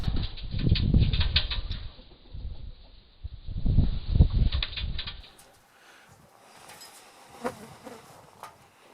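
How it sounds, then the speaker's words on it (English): An Indian myna flapping its wings inside a drop cage bird trap, two bursts of loud, close fluttering a few seconds apart, followed by quieter rustling and light knocks. "in this case, a Indian myna came along"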